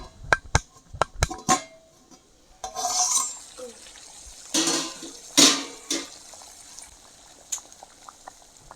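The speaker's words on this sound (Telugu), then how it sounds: "బాగా ఉడకతున్నాయి నీళ్ళు" Water bubbles and churns in a covered pot, in uneven bursts, after a few sharp clinks of metal at the start; no talking.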